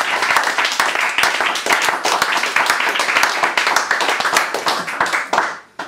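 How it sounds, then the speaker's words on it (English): A live audience claps hard at a comedy show, sharp individual claps blending into loud, sustained applause that suddenly drops away at the end. "So more applause, please, for Emile Sercombe."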